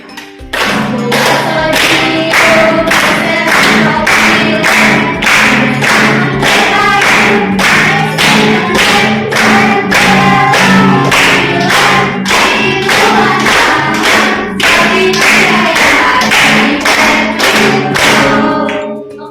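A group of high school students in a classroom at SMA Negeri 10 Denpasar clap their hands together in a steady, even rhythm. The claps are loud and continuous for the whole stretch, with no speech over them.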